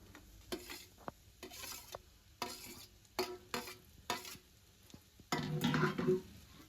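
Deep-fried ivy gourd pieces tossed into pan-fried onions and stirred, a quiet scraping rhythm of spoon strokes over a soft sizzle, ending in a louder burst of frying.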